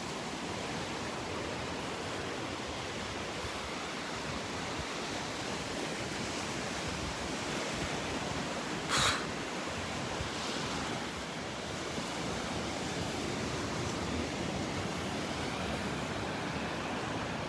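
Small ocean waves break and wash steadily onto the beach at Delnor-Wiggins, a continuous broadband surf hiss with a light wind rumble and one brief sharp splash near the middle, no voices.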